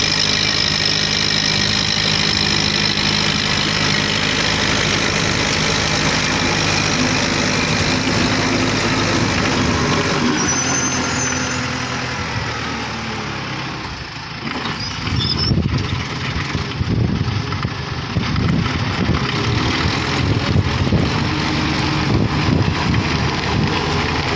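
A Kubota M7040 tractor with a modified exhaust pipe, engine running continuously outdoors with a loud steady rumble, easing briefly before rising again amid wind noise.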